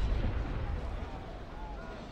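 Naval sailing-ship cannon fire from a naval combat video game, heard as a deep booming blast that rumbles and fades, with someone speaking German faintly beneath it.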